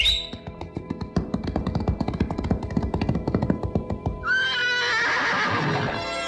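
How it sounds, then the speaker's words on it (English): A black stallion whinnies loudly and close, its neigh ringing out over rhythmic clip-clop hoofbeats, followed by a sustained high call. "There we found a beautiful black stallion."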